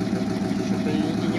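A GAZ-66 Shishiga truck engine idles nearby with a steady, even mid-low rumble that holds unchanged throughout.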